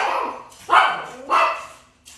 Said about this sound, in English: My dog Sydney is at the door, scratching at the door